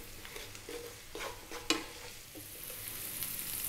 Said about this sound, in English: all we're doing here is we're going to fry the spinach, get a bit of flavour on it